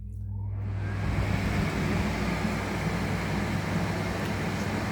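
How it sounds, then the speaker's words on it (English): A SHINCO portable air conditioner's fan runs as a loud, steady broadband whoosh with a low hum beneath, continuous and close throughout. "They have a loud fan noise, but no motor noise."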